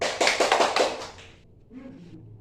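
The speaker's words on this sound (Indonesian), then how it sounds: "Tepuk tangan untuk kelompok 2" Schoolchildren in a classroom clap for a group of classmates, a quick round of close, sharp hand claps that stops after about a second, followed by a quiet voice.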